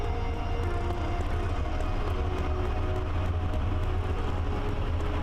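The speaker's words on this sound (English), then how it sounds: "And finally, my lovely locomotive, EP07544." A PKP EP07 electric locomotive running in the Train Driver 2 simulator, giving a steady, continuous rumble of motor and rolling noise with a faint whine throughout, with no voices.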